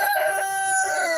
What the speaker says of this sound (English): Whitey, I hear you're calling your hens in there to sleep